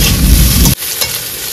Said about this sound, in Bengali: আজকে পুরো চানাচুর ভাজা করে দিচ্ছি, চানাচুর ভাজা।